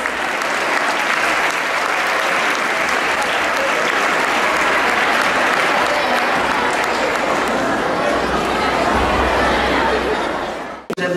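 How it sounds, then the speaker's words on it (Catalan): Applause at a spring school festival, a large crowd clapping loudly and continuously for about eleven seconds with scattered chatter and laughter mixed in, stopping abruptly at the end. "Un aplaudiment per a tots ells."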